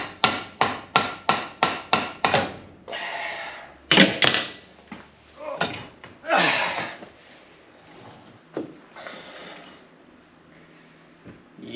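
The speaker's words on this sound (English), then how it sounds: "if we sit that over the bench and we just hit this shaft and tap it out" A steering box shaft from an old Toyota Land Cruiser is struck with a hammer over a bench to tap it out: a fast series of sharp metallic blows, then heavier irregular hits and scrapes, with breathing between.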